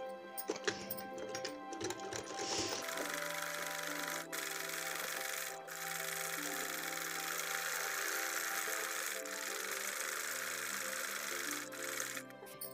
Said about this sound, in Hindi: अब जो हमें इस तरह से किनारे पे सिलाई लगानी है